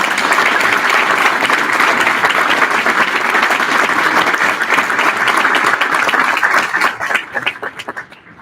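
At a graduation ceremony for a prison reentry program, the crowd claps in a sustained, loud round that stays dense for several seconds, then tapers into a few lingering individual claps.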